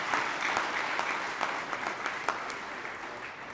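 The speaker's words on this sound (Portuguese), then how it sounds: "Uma salva de palmas." A crowd at an Angolan political gathering claps in a continuous, even roar of hands, with occasional sharper claps standing out, loud and close throughout.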